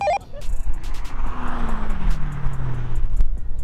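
A pair of 700 BHP rally cars, a Mitsubishi Evo and a Subaru Impreza, roar across the finish line in a drag race, with loud engines and a falling pitch as they pass close by.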